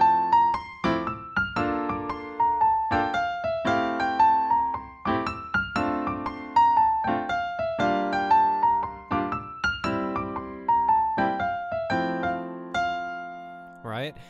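Jazz piano running up and down a scale in a syncopated rhythm, accents falling on the and after three and on one, a steady chain of close, clear notes with sustained chords underneath.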